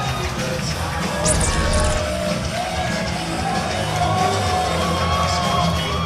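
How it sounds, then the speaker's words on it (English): A wrestling crowd at the CCW Summer Glory 2025 event in Port St. Lucie, Florida, chants and whoops loudly throughout, a dense roar of massed voices with rhythmic shouted calls and occasional higher yells standing out. "look at this crowd. They are all chanting woot woot for the son of Bus"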